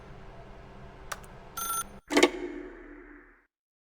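A telephone in the game The Stanley Parable gives a short bell ring, close and clear over a low hum, then a quick rattle as the ringing stops and fades out.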